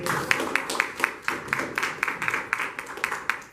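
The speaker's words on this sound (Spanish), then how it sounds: "Le doy un aplauso al Señor." A church congregation claps together in a steady, rhythmic applause of sharp, repeated hand claps, fairly close and filling the room, with little else heard.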